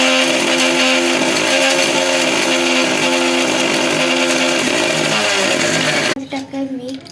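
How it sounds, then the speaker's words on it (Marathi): A kitchen mixer grinder blends an Oreo shake at home, a loud steady motor whir with a shifting pitch that runs for about six seconds, then cuts out, leaving a brief quieter tail. "आपण मिक्सर चालू करू."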